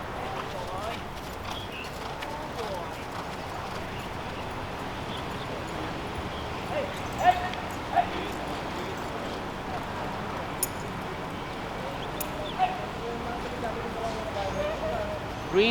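A racehorse's hooves clip-clop at a walk outdoors, moderately distant, with scattered rustling and occasional louder knocks over steady background noise.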